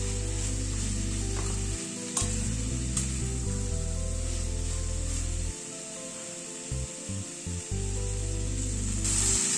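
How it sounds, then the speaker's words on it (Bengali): Peas and capsicum sauté in a karahi for a mixed vegetable dish, a continuous close sizzle broken by scraping stirs and brief pauses, with no talking. "সবকিছু দিয়ে একটুখানি কষিয়ে নিচ্ছি"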